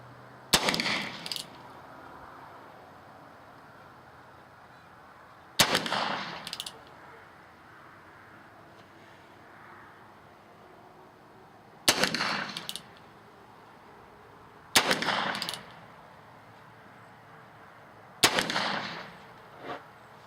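Five sharp 22 long rifle rimfire gunshots at a 25 to 30 meter outdoor target range, each a crisp crack with a short ringing tail, spaced several seconds apart over quiet background.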